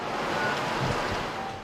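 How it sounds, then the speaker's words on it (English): Rough sea waves and swells surge and wash steadily at Heng Fa Chuen on eastern Hong Kong Island as Typhoon Koinu approaches, a continuous roaring wash with wind noise. "Waves are rough with swells."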